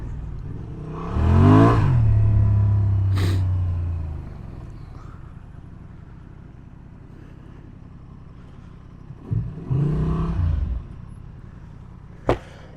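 A Honda Transalp 750 motorcycle engine revs up hard nearby and pulls away, its pitch climbing before fading, then a second shorter burst of acceleration passes later over steady wind noise.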